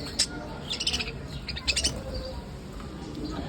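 Doves feeding on their grain make short, bright chirping bursts in two clusters, close and fairly soft over a low background hum.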